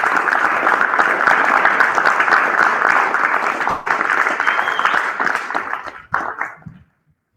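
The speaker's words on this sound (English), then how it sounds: "I want the students to go ahead and give him a round of applause when he comes up here" Students at a graduation celebration give loud, dense applause close by, sustained for about six seconds before tapering off into a few scattered claps and near silence.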